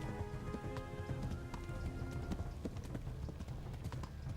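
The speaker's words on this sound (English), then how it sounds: "El caballo se está cansando un montón." A horse gallops in Kingdom Come: Deliverance, its hooves pounding in a fast, continuous, close rhythm over a steady rain-like background wash.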